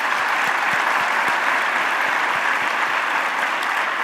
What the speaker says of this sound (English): In the words of Sadhguruji, let us clap and then thank Sadhguruji for this.